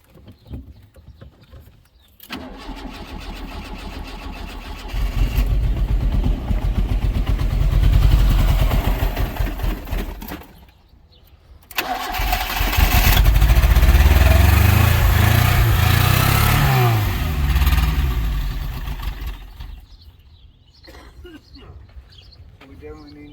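A Fiat X1/9 engine cranks and catches, then revs up loudly and rises and falls in pitch, cuts out briefly, then starts again and revs hard before settling to a rough idle, with people talking nearby.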